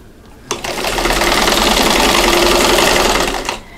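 An older sewing machine runs steadily while stitching a quilt block seam, a close, loud, even whir that starts abruptly and stops after about three seconds.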